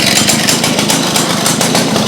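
Victa two-stroke go-kart engine running after a pull start, a loud, close, buzzing rattle that holds steady throughout.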